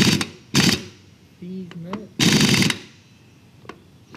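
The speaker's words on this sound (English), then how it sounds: "taking that nut off of the axle" Wrench or impact tool loosening the rusty axle nut on a motorcycle being fitted with a 670cc engine, heard as loud bursts of rapid clattering separated by pauses, with brief voices between them.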